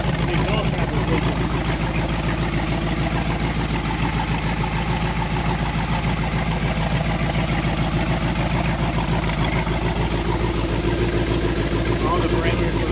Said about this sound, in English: The exhaust shaft is leaking.